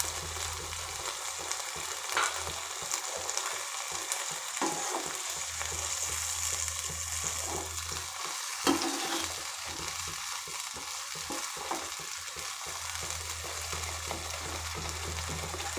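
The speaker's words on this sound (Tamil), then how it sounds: "இப்போ இந்த புளி கரைசலை ஊற்றிடணும்." Tamarind water hits a pan of frying brinjal, mango and fish curry, producing a steady, close hissing sizzle with occasional bubbling and stirring clatter.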